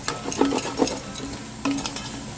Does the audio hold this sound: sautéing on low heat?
yes